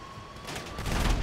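Rapid gunfire from a firefight at an army base in GTA V, building from a faint start into dense, overlapping bursts that grow louder toward the end, with no voices over it.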